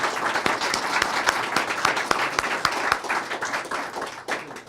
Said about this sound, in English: Round of applause one more time, ladies and Thank gentlemen